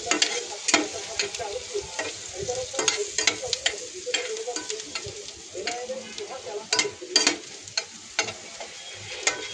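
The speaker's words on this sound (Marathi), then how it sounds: "लसूण थोडासा फ्राय होऊ द्यायचा" Finely chopped garlic sizzles in a hot pan for white sauce pasta, with close, crisp scraping and clicking as it is stirred in uneven bursts over a steady hiss.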